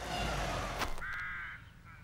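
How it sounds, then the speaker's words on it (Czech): Cartoon pigeons from Bob the Builder call out in a short, clear bird voice midway through, heard over a busy background. "Moc na mě nevrkejte vy dva a dolečte pro pomoc."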